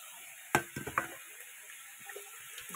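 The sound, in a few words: rinsing a bowl with water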